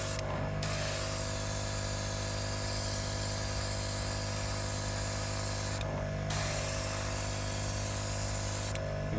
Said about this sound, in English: Apologise for my compressor being a bit noisy.